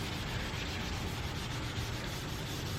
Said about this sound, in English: this is pretty aggressive sandpaper